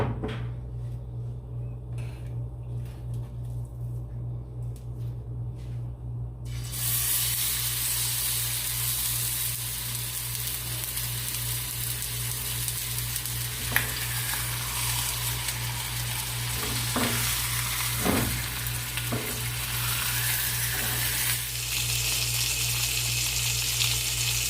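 Ribeye steak frying in very hot olive oil in a pan over medium-high heat, a steady loud sizzle that swells after a few seconds and runs continuously with occasional pops and faint utensil clinks.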